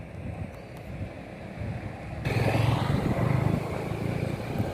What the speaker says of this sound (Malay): Angin tiup seronoknya.